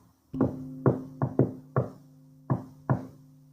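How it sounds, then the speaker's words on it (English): Seven sharp knocks on a wall ring out in an uneven rhythm, close and distinct, each with a short resonant tail. "I knocked on the wall."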